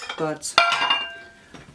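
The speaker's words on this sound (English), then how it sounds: "sorry for the glass noise" Glass dishes clink and ring against each other as food is put away, a bright knock followed by a lingering ringing tone, with someone talking briefly around it.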